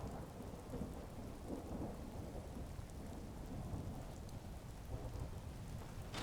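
Rain pours steadily in the video game Skyrim, with low rolling thunder rumbling beneath the constant patter throughout, heard alone without speech.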